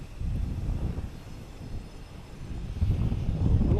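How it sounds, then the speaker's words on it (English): A JetBlue jet airliner arriving at Boston Logan Airport, heard as a steady, fairly loud low engine rumble that swells toward the end, with no talk over it. "Next, we got a JetBlue and A380 coming in from San Juan."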